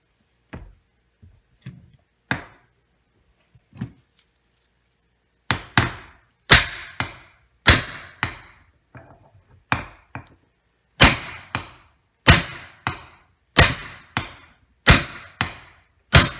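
A hammer strikes metal again and again while knocking a U-joint out of a C4 Corvette driveshaft, beginning with a few light taps and then building into loud, sharp ringing blows about a second apart.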